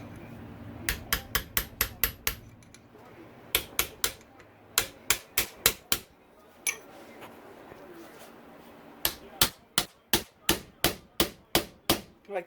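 A hammer strikes a punch to mark the spring collar on a Honda CRF450R rear shock, making crisp, evenly spaced metallic taps in three quick runs with short pauses between them, close and clear.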